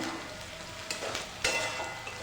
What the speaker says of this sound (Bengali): দেখুন কত সুন্দর ভাজা হচ্ছে